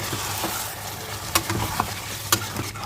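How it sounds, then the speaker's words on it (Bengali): Chicken curry with Kashmiri chili powder is stirred in a pan, with a steady sizzle and a few sharp scrapes and clacks from the spoon, close and clear with no talking. "মশলার ধোয়া জলটা দিয়ে ভালো করে নাড়া"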